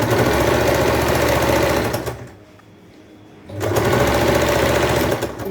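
A sewing machine stitches a seam while an old saree is turned into a long suit, running in two loud sustained bursts with a brief quiet pause between them.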